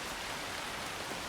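Heavy rain pours steadily in a video game, a dense even hiss spread across the whole moment with no other sounds.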